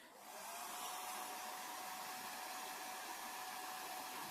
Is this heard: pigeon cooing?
no